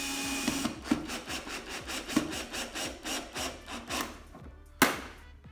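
An electric drill runs at slow speed boring through plastic, giving a steady rhythmic grinding with regular scraping pulses, close and moderately loud, ending on a sharp crack.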